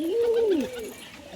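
A white pigeon gives a single rising-and-falling coo, close and clear, fading out after about half a second with no other sound.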